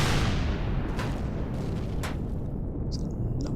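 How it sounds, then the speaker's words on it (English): A missile explosion in the video game Empyrion Galactic Survival booms as a loud, sustained rumbling blast with a crackling, roaring tail, filling the whole clip. "Secondary explosion proves that we actually got them."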